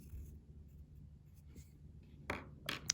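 A pencil writing a number on paper during a math lesson, soft scratchy strokes at low volume, with a couple of sharper scrapes near the end.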